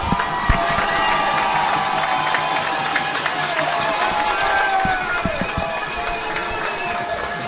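A stadium crowd at a Bulldogs high school football game roars and cheers without letup, a dense wall of shouting with scattered whistles and claps, loud and close.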